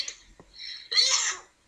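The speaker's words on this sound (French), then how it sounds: "À tes souhaits." A single short sneeze bursts out near the microphone after a brief breathy lead-in, loud and abrupt, then silence.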